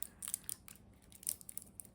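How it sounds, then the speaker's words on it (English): Scissors snip through a roll of fox-patterned washi tape during autumn craft work, a quick series of several faint, crisp cuts spread over two seconds, close by and quiet with no talking. "Let me grab my scissors here."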